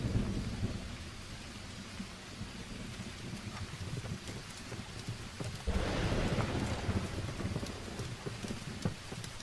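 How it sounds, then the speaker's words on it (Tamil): Steady rain falls throughout with low rumbling thunder, swelling into a louder, closer crack and roll midway before settling back under the downpour. "மழை பெய்ய போகுதா?"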